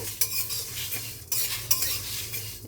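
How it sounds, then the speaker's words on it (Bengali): Garam masala spices fry in a pan while being stirred, a low sizzle broken by repeated scraping strokes of a spoon against the pan at an uneven rhythm. "গরম মশলা ভাজা হচ্ছে"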